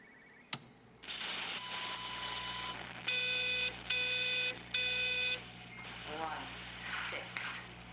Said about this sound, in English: I can hear a phone somewhere.